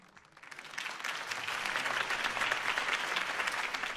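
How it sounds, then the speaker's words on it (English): A crowd applauds in a Batman Telltale video game scene, the clapping swelling from faint to a steady dense roar that holds to the end. "could have heard that applause"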